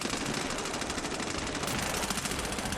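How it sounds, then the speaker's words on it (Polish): Dense, rapid gunfire crackles continuously in the video game Medal of Honor: Warfighter, a steady barrage of shots with no voices, loud and close throughout. "słyszycie, tutaj te strzały"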